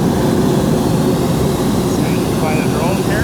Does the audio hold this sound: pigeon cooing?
no